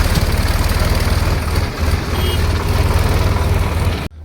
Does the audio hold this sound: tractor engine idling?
yes